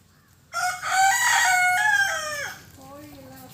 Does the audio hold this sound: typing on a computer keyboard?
no